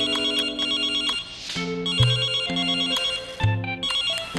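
Mobile phone ringtone in a Brazilian advert for a newspaper, a bright repeating electronic melody that rings clearly and steadily with no voice over it.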